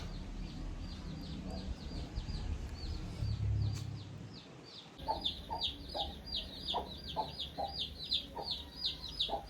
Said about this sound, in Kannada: ನೋಡಿ ಎಷ್ಟು ಕಿಚ್ಚಿ ಅಂತವೆ ಮರಿಗಳು